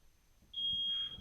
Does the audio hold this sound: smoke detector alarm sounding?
yes